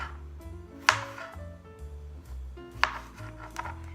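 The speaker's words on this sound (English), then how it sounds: "And I'm just going to chop." A knife slices cucumber on a cutting board, strokes thunking at a slow steady pace, a couple of sharper chops standing out over a low background hum.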